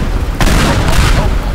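Gunfire and an explosion in the destruction game Teardown: a dense, loud burst of noise that hits at once and keeps roaring steadily through the short moment.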